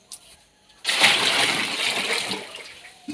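Water pours into a pot or cooking vessel in one short splashing gush that starts abruptly, sloshes loudly and tapers off, close by.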